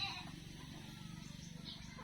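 Goats bleat repeatedly in a steady pulsing chorus, close by, with a constant low murmur of animals underneath.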